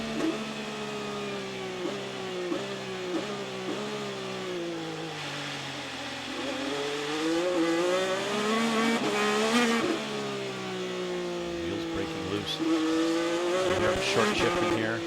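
A Honda-powered IndyCar races on a damp street circuit in Toronto, onboard, its engine revving and climbing through gears with quick early shifts, loud and continuous with a brief tire squeal.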